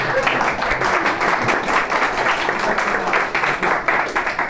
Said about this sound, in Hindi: कासिम साहब के लिए तालियां।